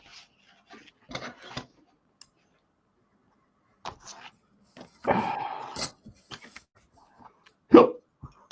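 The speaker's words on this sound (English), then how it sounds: "Oh, hiccups." Several separate hiccups, sharp and brief, are spread unevenly across quiet pauses, with a louder burst of breathy noise midway.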